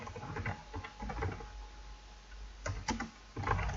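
Computer keyboard keys clatter in quick irregular bursts as C++ code for a video game is typed, with short pauses between runs of clicks, close and fairly quiet with no talk.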